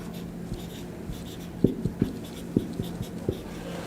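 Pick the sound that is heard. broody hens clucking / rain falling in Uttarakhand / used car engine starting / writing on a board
writing on a board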